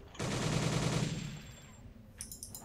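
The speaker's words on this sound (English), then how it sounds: "Oh, another Piat shot here." A single heavy anti-tank blast from a PIAT in a WWII strategy game, a sharp booming report that rumbles and decays over about a second before faint battlefield clicks.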